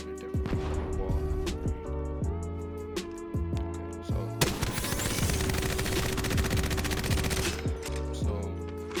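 Devotion energy weapon firing in the video game Apex Legends, first in short separate bursts, then as one long rapid stream of shots, with a ringing tonal hum throughout.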